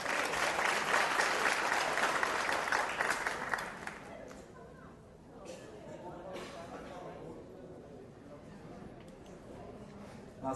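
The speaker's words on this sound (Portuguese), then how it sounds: "Mais uma salva de palmas e agradecemos." A ceremony audience breaks into loud sustained applause that thins out after a few seconds, leaving a murmur of crowd noise and a voice speaking over the room.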